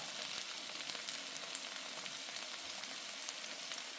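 Chopped onions sizzle in a pan beside simmering broccoli, an even, dense crackling hiss holding steady throughout, fairly quiet and with no voices.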